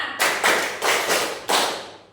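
Schoolchildren in a Year 6 classroom clap a rhythmic pattern together: four or five sharp group claps in an even beat, loud and close, with no talking over them.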